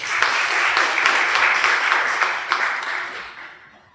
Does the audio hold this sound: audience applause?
yes